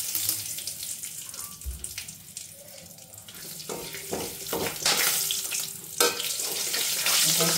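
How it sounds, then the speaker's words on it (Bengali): Cardamom, cloves and cinnamon crackling in hot oil, a wet hissing sizzle punctuated by sharp pops and splutters that grow louder and denser toward the end. "এলাচ ফাটিয়ে, অবশ্যই এলাচ ফাটিয়ে দিতে হবে।"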